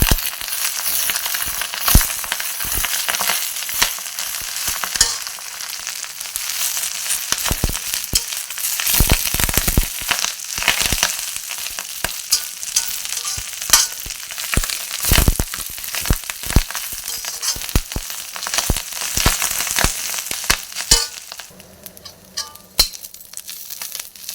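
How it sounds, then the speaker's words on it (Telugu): Peanuts, mint and gongura leaves sizzle in a pan for a Telangana-style leaf pickle, a dense crackling fry broken by repeated clattering, scraping stirs and clinks before the sizzle fades near the end, with no voices. "శనగకాయ, పుదీనా, గుంటగలగర ఇవన్నీ వేసుకొని వేయించుకోవాలి"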